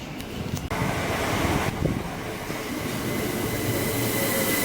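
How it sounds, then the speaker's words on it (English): An 8-coach Southeastern train moves through Bromley South station with a loud, steady rumble of wheels on rail, a faint high whine and a few clanks near the start. "This train has 8 coaches."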